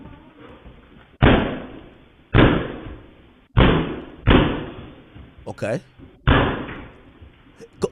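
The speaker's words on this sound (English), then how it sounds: "he kicked the second one straight off the hinges." A man repeatedly kicks a door to break it down, heavy booming thuds at roughly one-second intervals, each ringing briefly, with a brief spoken word in between.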